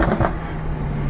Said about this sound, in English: So it goes from Strada, and then we open the valves in Sport, and as you can hear already,